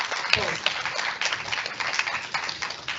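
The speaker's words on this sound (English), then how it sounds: "let's give Dr. Wai Ro another round of applause" Workshop audience applauding a speaker, a steady wash of clapping from a modest crowd, moderately loud and even, with a few sharper claps standing out.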